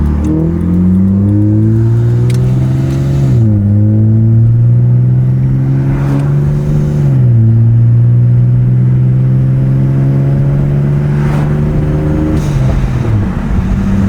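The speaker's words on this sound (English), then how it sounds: "this car is still too loud" A loud car exhaust fitted with a valved muffler and an ultra-quiet resonator drones steadily, its deep tone dipping and rising with engine revs under continuous throttle, close and alone.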